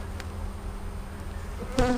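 Honey bees buzzing around an opened hive during a fall inspection, a frame full of winter bees: a steady, dense drone throughout, with a louder, sharper buzz of a single bee passing close near the end.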